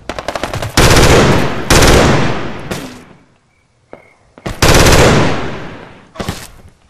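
Gunfire in a World War II shooter game event, loud rapid bursts of automatic fire with sharp single blasts between them and a brief quiet gap, close and harsh with no talk.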